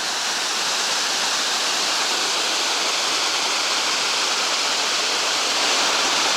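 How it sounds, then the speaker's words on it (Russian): A forest waterfall heard from right beneath it: a loud, dense, unbroken rushing roar of falling water that fills the whole scene with no other sounds. "когда стоишь вот здесь под самым водопадом, чувствуешь, как он на тебя гонит поток холодного воздуха"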